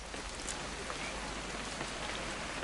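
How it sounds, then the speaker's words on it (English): Steady, dense rain in the video game What Remains of Edith Finch patters on a surface, an even hiss of drops with no voices, holding constant throughout. "It's gonna rain the whole weekend"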